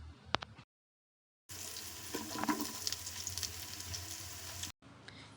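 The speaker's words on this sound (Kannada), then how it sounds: "ಈರುಳ್ಳಿನ ಮೀಡಿಯಮ್ ಫ್ಲೇಮಲ್ಲಿ ಹುರ್ಕೋಬೇಕಾಗುತ್ತೆ." Chopped onions fry in a pan over a medium flame, making a close, steady sizzle broken by brief silent gaps, with no talking.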